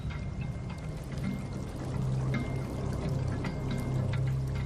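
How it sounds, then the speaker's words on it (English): Water poured over a scale model of the scablands to represent glacial Lake Missoula's failure, a soft continuous pouring and trickling flow that swells slightly louder partway through, heard alone without speech. "poured water over it to represent the failure of glacial Lake Missoula"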